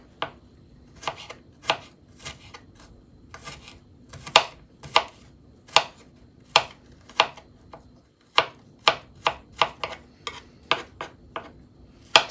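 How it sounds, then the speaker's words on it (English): Garlic being chopped with a knife on a vegetable board: a series of sharp, close, distinct knife strikes in an uneven rhythm, some in quick bursts, with no voices. "Now I'm just going to chop up on my veg board, and using my veggie knife."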